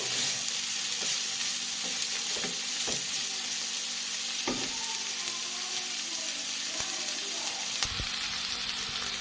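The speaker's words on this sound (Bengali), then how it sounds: "সবজির খোসা দিয়ে দিচ্ছি, সবই দেওয়া হয়ে গেছে। ভালো করে ভেজে নেব।" Vegetable peels fry in a pan with a steady close sizzle, broken by a few sharp clicks and scrapes from stirring, with no talking.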